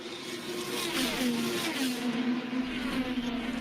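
IndyCar race car engines at Iowa Speedway during a 2025 race, a loud sustained high-pitched drone with a pitch that shifts as cars pass, a steady wall of engine noise with no one talking.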